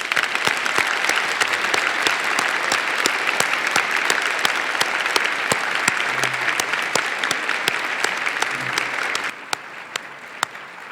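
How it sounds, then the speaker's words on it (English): A law school moot court audience gives sustained, dense applause, many hands clapping loudly together before it thins to a few scattered claps at the end. "I think we can give them all a round of applause."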